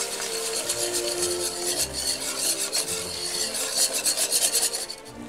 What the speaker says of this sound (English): Now we start adding the broth to the pan and whisking it together